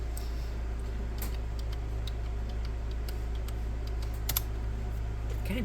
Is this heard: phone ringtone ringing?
no